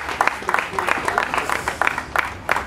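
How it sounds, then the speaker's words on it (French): An audience at a comedy benefit show in Côte d'Ivoire claps in a scattered burst of handclaps, moderately loud, with voices speaking over the applause. "Il est là, est-ce qu'on peut l'applaudir, s'il vous plaît?"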